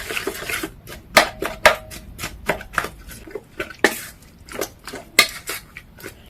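Noodle omelette ingredients are mixed in a bowl, with a rapid series of sharp utensil clicks and knocks against the bowl in irregular bursts, close and fairly loud with no talking.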